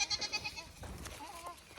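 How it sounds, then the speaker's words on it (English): Goats bleat in a short series of quick, fairly close calls at feeding time on an animal sanctuary, with other farm animals nearby and a soft rustle under the bleats. "coming out now to feed the goats and the pigs"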